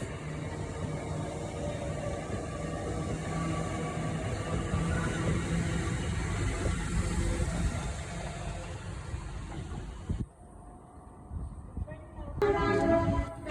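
A Grand Central Atlantic train from Sunderland to London King's Cross passes through Peterborough station on the ECML with a broad, sustained rumble that cuts off abruptly. A short burst of station noise with a tonal, horn-like sound follows.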